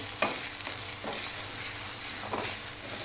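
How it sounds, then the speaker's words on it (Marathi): Ground spice masala with turmeric, salt and coriander powder is stirred in a pan, and a spoon scrapes a few times over a constant close sizzle, with no voices. "आता आपण हे छान मिक्स करून घेऊया"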